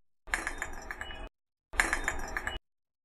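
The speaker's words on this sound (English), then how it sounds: "now I will place this ball in this glass jar." Two short bursts of clinking and rattling as a ball is placed into a glass jar, bright glassy taps and rolling knocks close to the listener, separated by a brief silence.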